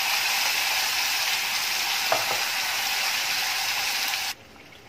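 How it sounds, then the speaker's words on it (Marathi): Spice paste gravy with asafoetida and cumin sizzling in hot oil on a low flame, a steady loud frying hiss with a couple of faint stirring scrapes, cutting off abruptly near the end. "ही ग्रेव्ही आहे ती तेलामध्ये छान अशी परतून घ्यायची आहे।"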